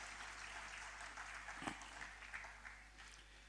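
Faint applause from a distant audience at a stage event, a steady wash of clapping with a low constant hum underneath and no voices.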